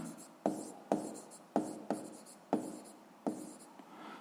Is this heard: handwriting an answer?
yes